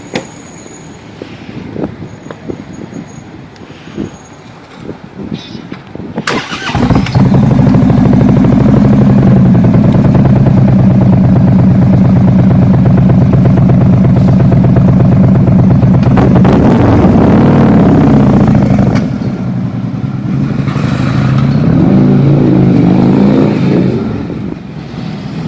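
Car engine revving loudly through its exhaust pipes at a full-throttle event in Florida, a sudden roar that holds for several seconds, swells again, then fades back.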